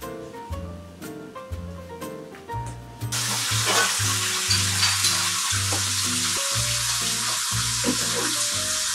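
Cucumber and okra frying in a pan, a steady loud sizzle that surges as water is added, with musical tones underneath throughout.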